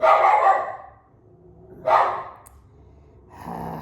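A dog barks outside the house, a couple of short muffled bursts heard from a distance through the walls, separated by quiet gaps.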